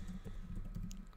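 A key pressed on a computer keyboard, giving a few soft, close clicks over a low, steady room hum, with no one speaking.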